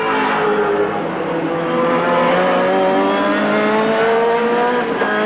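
A touring car races at Winton in 1990 Australian championship competition, its engine droning loud and close as it holds high revs and rises steadily in pitch while closing to lap a slower car, with no talking.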